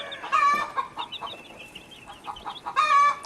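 Several chickens, a mix of roosters and hens, cluck and squawk nearby in irregular bursts, a mix of short calls and louder drawn-out cries, with no talking.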